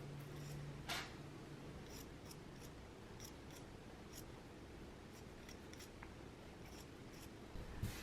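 Quiet snips of scissors trimming a fabric seam allowance on a gingham dress, a few crisp cuts spaced unevenly across a soft, steady background hiss.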